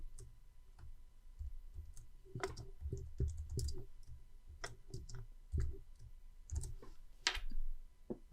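Quiet, scattered clicks and taps of a computer keyboard as shortcuts are entered in Excel, arriving in irregular bursts of single and clustered keystrokes, close and soft with no talking.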